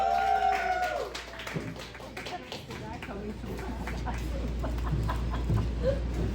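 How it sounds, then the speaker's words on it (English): Audience applause for comedian Ryan Fay at a stand-up comedy show, a steady clatter of clapping that fills the room and carries on under voices. "Please put your hands together for Ryan Fay"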